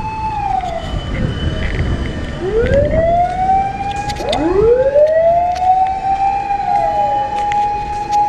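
Fire engine sirens at a fire scene in Japan, several wailing tones rising and falling and overlapping loudly close by, with traffic noise beneath and voices in the background.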